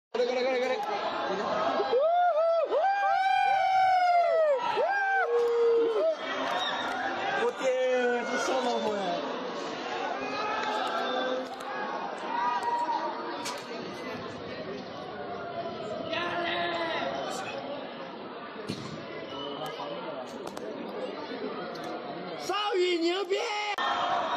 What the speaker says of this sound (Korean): 이것은 학생들이 기숙사 건물에서 크게 외치는 소리입니다.